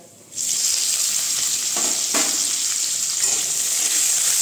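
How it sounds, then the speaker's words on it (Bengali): Steady, loud sizzling of potatoes and tomatoes frying in a pan with lightly fried peanuts, with a few soft stirring scrapes and no talking. "এর মধ্যে দিয়ে দিচ্ছি আলু আর টমেটোটা"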